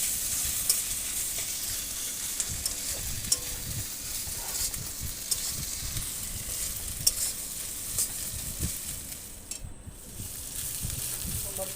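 Chopped onion with ginger-garlic paste sizzles steadily in a hot pan, with repeated scraping strokes of a spoon stirring it close by.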